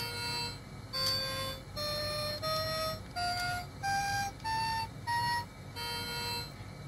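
An Ojamajo Doremi Tap toy plays its melody, a sequence of about eight electronic beeping notes rising in pitch one after another at a steady pace, clear and close over a faint background hum.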